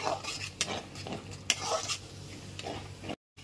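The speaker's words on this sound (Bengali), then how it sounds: "মিডিয়াম ফ্লেমে মশলাটাকে 4 থেকে 5 মিনিট ধরে খুব ভালো করে কষিয়ে নিতে হবে।" Masala being stir-fried on a medium flame for a Bengali pomfret fish curry, with soft sizzling under repeated spoon scrapes and clinks against the pan, briefly cutting to silence near the end.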